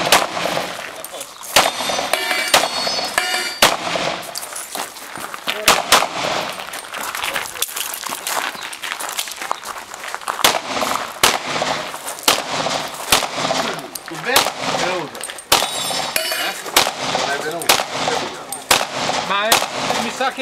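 Rapid bursts of gunfire on a practical shooting competition stage in Cecina, Italy, loud and close, with sharp shots in quick strings and brief pauses, some metallic clangs and voices talking underneath.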